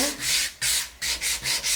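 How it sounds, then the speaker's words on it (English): Hand sanding on wood: five rhythmic back-and-forth scratchy strokes, close and steady, with brief pauses between passes. "Sanding in a straight line is going to be your most important thing"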